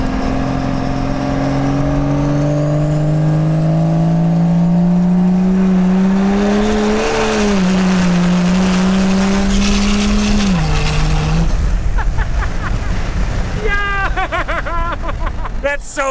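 A 1000-horsepower Cummins diesel truck heard from outside, loud rising engine drone climbing steadily in pitch as it accelerates hard, then a sharp drop-off into rougher rumble and chatter, with voices in the background.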